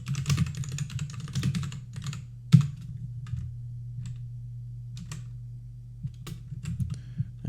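Computer keyboard typing while entering generic text in a Python coding session: quick irregular key clicks in bursts with a few sharper, louder strokes, close and fairly quiet over a steady low hum.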